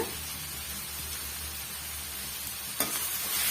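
Spices, green chilli and tomato frying and being stirred in a pan for a quick tiffin dish, a steady close sizzle with a single spatula scrape near the end, no talk.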